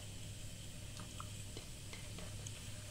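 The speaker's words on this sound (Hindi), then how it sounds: "इधर कढ़ाई हमने पहले से रख दी थी गैस पे, और तेल हमारा गरम है। ऐसे सारे बरगद हम डाल देंगे इसमें" Khasta dough pieces (bargad) slipped into hot oil in a kadhai on a gas stove hiss with a steady, soft sizzle dotted with small crackles and ticks, continuous throughout with no voices.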